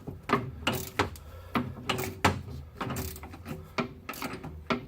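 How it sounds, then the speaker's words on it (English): A ratchet wrench clicks in quick, uneven bursts of sharp mechanical ticks, up close and moderately loud, with no voices over it. "you're going to be ratcheting for a while"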